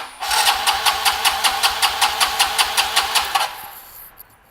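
A rebuilt Honda Elite 150 scooter engine fires up after its dry carburetor is primed, chugging in a steady rapid rhythm of loud pulses for about three seconds before cutting out, with no talk.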